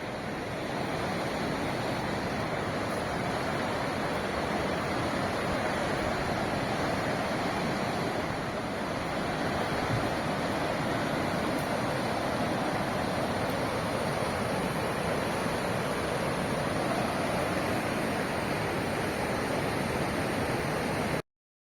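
The Indus River flows along its bank near Garkon village in the Aryan valley, a loud, steady, rushing roar of water that holds unbroken for the whole stretch, with no voices.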